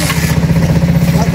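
A battery and petrol hybrid motorcycle engine runs close up with a steady, low, throbbing idle and slight clatter.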